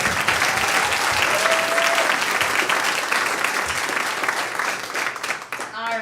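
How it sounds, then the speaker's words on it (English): A school or business event audience breaks into sustained, lively applause that holds strong for several seconds before thinning out toward the end, with a faint voice briefly audible as it fades. "So we want to show a lot of applause for Kara,"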